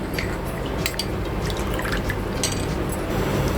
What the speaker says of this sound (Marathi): इथे मी थोडं पाणी घेतलं आहे त्यामध्ये वन टेबलस्पून कॉर्नफ्लावर आणि एक चमचा मैदा ह्याचा घोळ बनवून घ्यायचा आहे